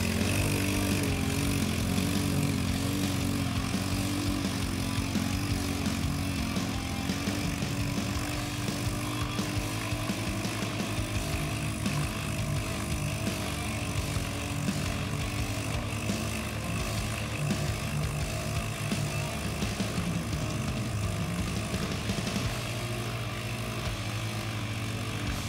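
A cheap Bison 4x4 all-wheel-drive ATV engine drones steadily and loudly for the whole stretch as it slowly crawls over an obstacle, a continuous low buzzing rumble with no talking.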